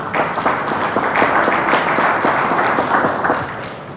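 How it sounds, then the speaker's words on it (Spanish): An audience gives a warm round of applause to welcome a speaker at a senator's event, with dense, steady clapping from a crowd that holds for several seconds and eases off slightly at the end. "Recibimos con un cálido aplauso a Julia Carabias Lillo."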